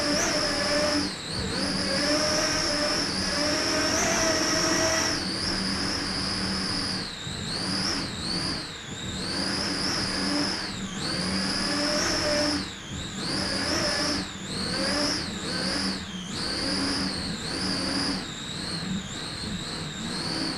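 A Bacardi Silver race team engine roars on throttle from on board, high-pitched and sustained, its pitch climbing and dropping repeatedly through gear changes and corners, loud and close throughout.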